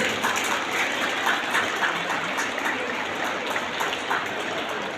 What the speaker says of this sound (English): Let's clap for the parents of all these children.